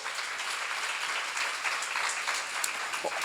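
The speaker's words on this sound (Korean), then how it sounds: "박수 좀 쳐봐." Steady applause from an audience at a church seminar, a continuous wash of many hands clapping at moderate volume throughout.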